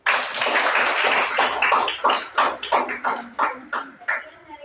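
A group of high school students in a classroom claps hands in a series of sharp, fairly close bursts that thin into separate rhythmic claps toward the end, with voices mixed in.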